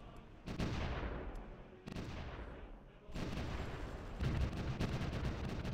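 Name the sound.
artillery fire in video game Supreme Ruler The Great War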